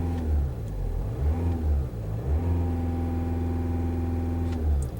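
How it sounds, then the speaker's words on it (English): A 2010 Volkswagen TDI common rail diesel engine revs up and settles in a couple of swells, a deep throbbing drone that rises and falls in pitch, loud and steady throughout with no voices. "so let's rev it up and see if it gets hotter."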